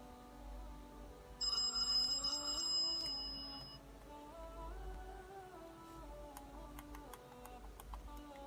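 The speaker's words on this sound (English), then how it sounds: "there we go, there's a phone call" A phone rings with an incoming call on a Chuwi Hi9 Air 4G phablet, a repeating electronic ringtone melody of rising and falling tones that plays alone at moderate volume with a few light ticking clicks.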